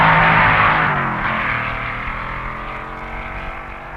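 Chevy-powered A-gas supercar and Fast B Modified Sports cars at the 1961 NHRA Winternationals drag race, a loud engine roar that fades steadily as the cars pull away.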